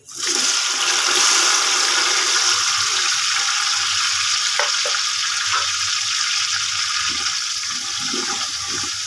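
Tomatoes tipped into hot oil left over from frying, being cooked down for an okra curry: a loud, steady, broad sizzle and hiss that runs on throughout with no talking.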